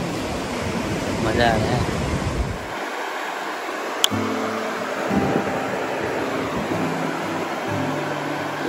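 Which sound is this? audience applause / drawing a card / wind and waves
wind and waves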